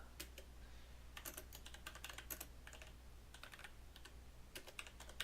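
Close, quiet typing on a computer keyboard: bursts of rapid key clicks with short pauses between them over a low steady hum.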